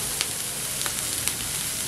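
Vegetables with peas fry in a pan, giving a steady close sizzle with a few light stirring scrapes.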